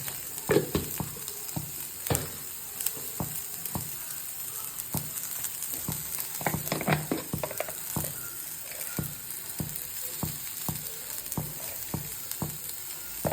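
Drumstick flowers wilt in a pan with crushed green fennel seeds and garam masala, frying with a constant soft sizzle broken by regular scraping strokes of a spoon stirring the mixture; no one talks.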